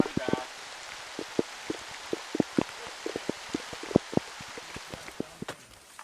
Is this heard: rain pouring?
yes